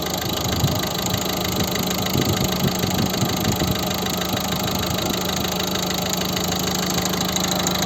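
A 2012 Volvo V50 1.6 diesel engine idles steadily up close, a continuous low rumble with a faint knocking clatter throughout.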